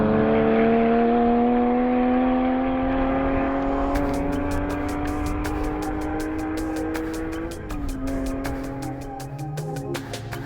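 A Porsche GT4 RS sports car drives on a race track, its engine a rising, whining tone that climbs steadily before a gear change, with rapid ticking clicks in the background.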